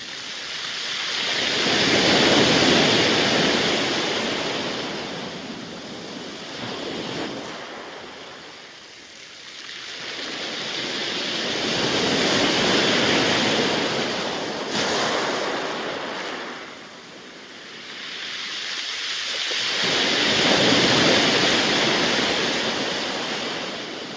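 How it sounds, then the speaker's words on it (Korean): Waves wash in and draw back over the rounded pebbles of Aljak-ji beach on Jeju Island, in three slow, loud surges with rattling stones between, no voices. "바닷물이 들고 나면서 들려주는 몽돌 특유의 소리를 들어볼까요?"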